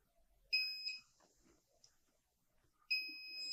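A multimeter beeps loudly while probing a capacitor on a phone circuit board: a steady tone from about half a second to one second, then quiet handling, then a second sustained beep near the end.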